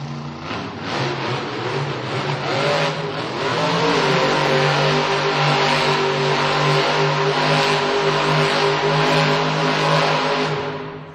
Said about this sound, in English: There it is, Velociraptor ready for some donuts.